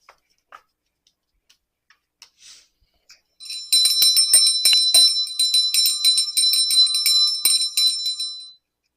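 Small hand bell rung repeatedly, a bright sustained jingle of rapid metallic strikes lasting several seconds and close to the microphone, preceded by a few soft taps and handling clicks.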